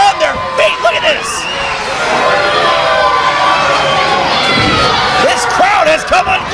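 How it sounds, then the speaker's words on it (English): A wrestling match crowd is on its feet, roaring, cheering and shouting loudly and continuously. Individual yells and whistles rise above the steady din throughout. "This crowd has come unglued here."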